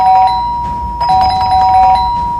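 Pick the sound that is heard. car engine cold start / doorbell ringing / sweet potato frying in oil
doorbell ringing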